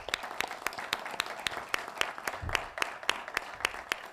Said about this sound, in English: I think we owe him a big round of applause for everything he does for his troop.